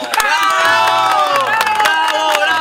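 A lively audience of children and adults cheers, shouts and claps to welcome a clown at a street comedy show, a loud, dense burst of crowd noise filling the whole moment.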